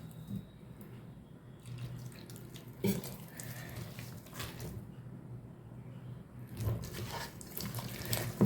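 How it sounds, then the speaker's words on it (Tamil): Water pours steadily into a bowl of Mysore bonda batter, a soft continuous running sound with a few brief clinks, fairly quiet and close. "நான் இன்னும் கொஞ்சம் தண்ணி ஊற்றிக்கிறேன்."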